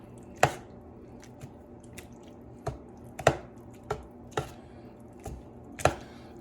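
Fresh ground parmesan is stirred into a meat sauce for Instant Pot lasagna: a handful of soft wet clicks and squishy taps from the spoon against the pot, spaced irregularly and faint, with no talking.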